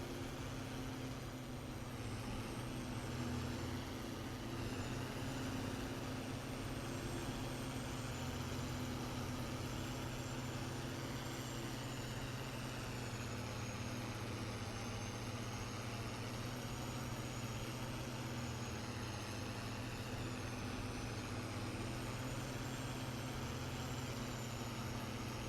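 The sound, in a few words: Ford tractor engine working in a video game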